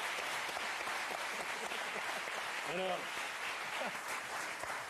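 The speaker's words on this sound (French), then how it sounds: "Est-ce qu'on peut les applaudir quand même?" Studio audience applause on a French television talk show, a dense, steady wash of clapping that continues throughout with someone talking over it.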